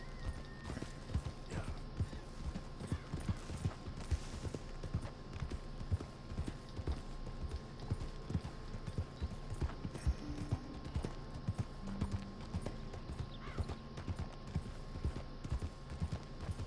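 Horse hooves gallop in Red Dead Redemption 2, a fast steady clip-clop rhythm running throughout with a brief whinny, faint and at a distance, while a voice speaks briefly over it.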